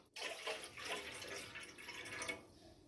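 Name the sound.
water being poured into a pan to boil macaroni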